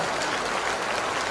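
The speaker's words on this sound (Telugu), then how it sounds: "మనందరికీ కళ్ళు తెరిపించినటువంటి గురువు గారికి కూడా మనం చప్పట్లు కొట్టాలా వద్దా?" An audience applauds their teacher at an emotional school gathering in a hall, dense steady clapping filling the whole moment without a break.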